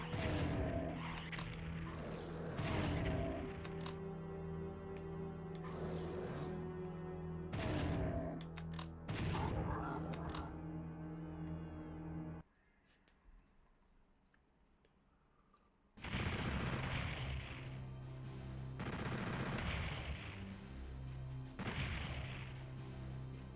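Doom 64 gameplay is full of loud, repeated weapon blasts and crashing impacts layered over a droning game soundtrack. The action drops to a quiet lull partway through, then the heavy bursts of fire come back.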